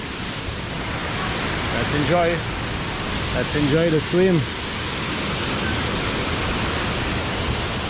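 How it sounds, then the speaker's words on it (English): The Ma-Cuu waterfall in the Costa Rica jungle pours with a loud, steady, enveloping roar of falling water close by, and a voice speaks briefly over it midway. "As you can hear, I am near this beautiful waterfall next to the bridge"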